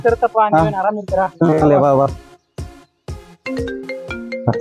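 People talk animatedly, then a short electronic phone ringtone melody sounds near the end, partly overlapping their voices.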